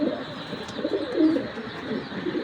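Racing pigeons, including a Belgian-bred hen and older birds, coo softly and repeatedly from close by, with low murmuring calls overlapping against a steady background hiss.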